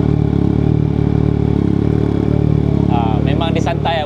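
A Yamaha MT-09 V4 idling with the dB killer fitted in its new exhaust, an even, continuous mid-pitched engine drone heard up close, with voices talking over it in the last second.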